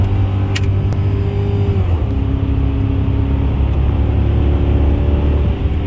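A car engine revs hard as it accelerates in third gear near 84 mph, a loud continuous drone whose pitch steps down briefly around a shift point and then climbs steadily again.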